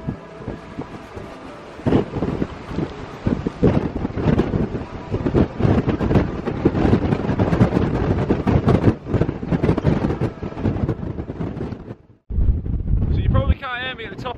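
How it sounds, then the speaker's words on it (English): Strong wind buffets the microphone at the top of Peel Tower, a loud, continuous roar with gusty surges that drops out briefly near the end before returning. "it's very, very, very windy"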